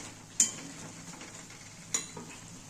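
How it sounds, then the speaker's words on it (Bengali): Taro leaves (kochur shag) cooking in a pan are stirred with a utensil, giving two sharp scraping clinks against the pan over a soft, steady sizzle. "আবার একটু নেড়ে দিচ্ছি"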